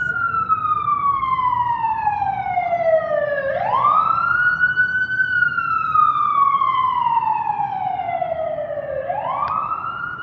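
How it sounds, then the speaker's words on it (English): An emergency vehicle siren passes loudly and nearby, its wail sweeping slowly down then sharply back up twice over a constant road rumble. "I'll wait for the siren to pass."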